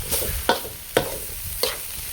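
A spatula scrapes and stirs spicy field rat in a hot pan, with a steady sizzle under three sharp scraping strokes spaced about half a second apart, close and fairly loud.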